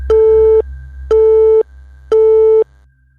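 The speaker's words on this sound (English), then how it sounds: "and then the line went dead" A telephone busy signal sounds as three loud, steady tone bursts of about half a second each, separated by short gaps, clean and close with no voices.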